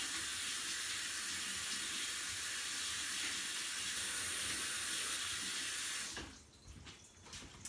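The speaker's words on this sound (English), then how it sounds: "So I'm gonna wash my hands really fast." Hands are washed under a running kitchen tap in a sourdough bread class, a steady hiss of flowing water that cuts off near the end, leaving a few quieter splashes and handling noises.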